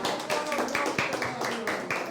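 A church congregation at a conference claps in scattered, uneven bursts of hands, fairly close, with some voices talking over it.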